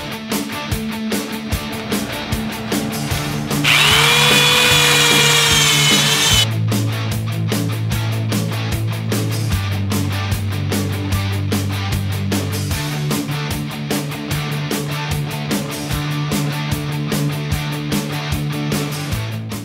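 Drill spinning a nylon bristle brush to strip old stain from a wooden deck, a steady motor hum that changes pitch as the load varies, with a continuous scrubbing rasp and one louder whining stretch early on.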